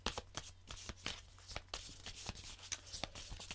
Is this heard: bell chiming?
no